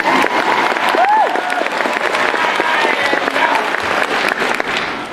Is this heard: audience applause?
yes